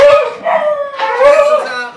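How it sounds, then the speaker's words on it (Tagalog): A large dog barks and howls close by, in a few loud, drawn-out tonal cries over about two seconds, with people shouting around it. "Ang laki ng aso."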